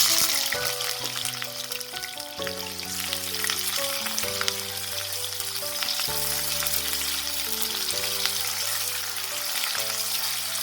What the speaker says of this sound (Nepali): अब प्याज राखेर यसलाई केही बेर हामी फ्राई गर्नेछौँ